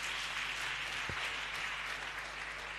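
A church congregation applauding to acclaim the Lord, a steady wash of many hands clapping that fills the space evenly, heard from a distance and fairly faint, without talk.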